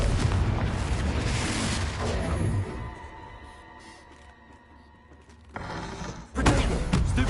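A Confringo spell blast in Hogwarts Legacy, a loud booming explosion up front that rumbles and fades, followed by a quieter lull and another heavy burst near the end.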